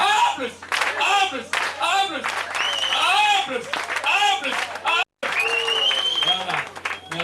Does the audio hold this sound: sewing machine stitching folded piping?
no